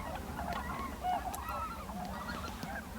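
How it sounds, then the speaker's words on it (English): A flock of white-fronted geese honking steadily at a distance, overlapping calls forming a continuous chorus with no talking. "These guys are white-fronted geese."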